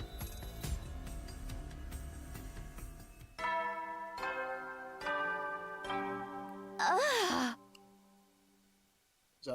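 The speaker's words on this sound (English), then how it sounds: "Sounds like a skull bell." A bell tolls repeatedly in The Hundred Line: Last Defense Academy, a series of ringing metallic strikes with lingering tones, followed by a sharp, wavering electronic swell and then quiet.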